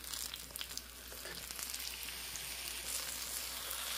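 Banana glutinous rice cake frying in a pan over low heat, giving a steady soft sizzle with faint crackling throughout, no voices.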